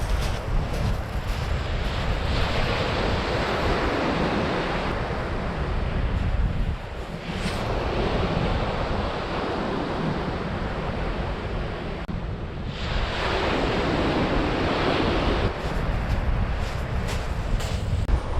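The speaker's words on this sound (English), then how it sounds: "The wind's really picked up now" Strong wind roars against the microphone on a storm beach while heavy surf breaks and washes continuously, a loud, dense, steady rush with slight surges and no speech.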